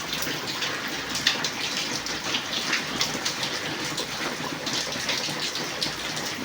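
Heavy rain pouring down, a dense, continuous roaring wash of water that stays loud and even throughout, with no voices.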